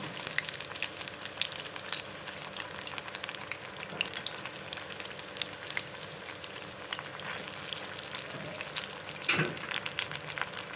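Fish pakoda with semolina and garlic batter frying in hot oil, a steady close crackling sizzle throughout with a few louder pops and stirring sounds, no voices.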